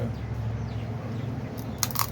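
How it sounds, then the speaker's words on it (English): Dried-out pecans being cracked open, a few sharp crunching snaps bunched near the end after a stretch of low, steady background hum. "the only way I'm going to get the meat out of these nuts is if I start cracking"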